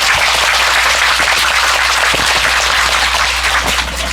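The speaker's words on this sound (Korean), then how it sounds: "이 젊은이의 장래 앞이로 해서도 많은 격려의 박수를 좀 해주셨어요." A gathering at a Buddhist question-and-answer session gives a round of encouraging applause, a loud, continuous crackle of many people clapping close by, with no voices over it.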